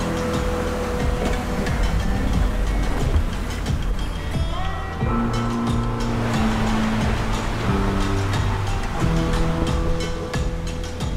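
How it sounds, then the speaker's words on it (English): Waves and strong wind at sea around a sailing boat in the Great Australian Bight, a loud continuous rushing wash of water and gusts, with rumbling and creaking tones from the boat running underneath. "The wind's just picked up to 30 knots behind us"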